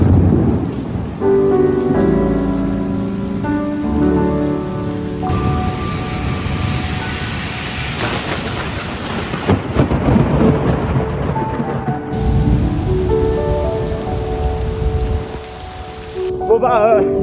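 A heavy thunderstorm in Sydney, Australia: loud, continuous rain pours down while deep rolling thunder rumbles through, with no voices heard.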